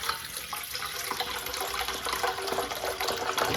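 Tap water runs steadily into a cooking pot set out for a herbal decoction in a home kitchen, a continuous close splashing fill with no talk over it.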